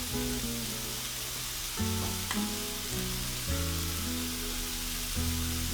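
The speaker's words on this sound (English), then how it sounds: "once it starts sizzling pretty good, go ahead and flop your hamburger over" Hamburger beef patties sizzle while frying in a pan for a homemade pizza, a continuous dense crackle near and steady across the whole stretch, with a strong hum underneath and no voices.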